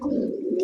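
A Danish pigeon, a hen that is laying eggs, gives a short, steady low coo that sounds close and fairly loud.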